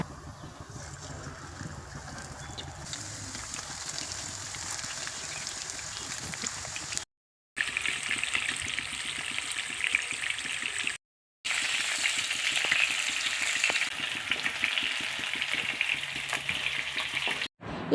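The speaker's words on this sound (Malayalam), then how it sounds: "വെളിച്ചെണ്ണ ചൂടായതിനു ശേഷം അതിലേക്ക് നമുക്ക് ചിക്കൻ ഇട്ടൊന്ന് പൊരിച്ചെടുക്കാം." Chicken pieces fry in hot coconut oil with a dense, steady sizzle and crackle, broken by two brief silent gaps.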